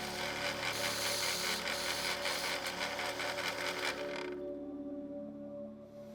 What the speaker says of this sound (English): Here I am sanding off the tabs with a belt sander.